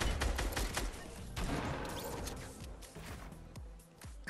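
Rapid bursts of gunfire crack in a first-person shooter game as random players are gunned down, shots clustering in quick volleys near the start and then thinning into scattered single reports.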